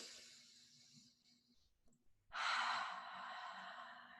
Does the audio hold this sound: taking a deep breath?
yes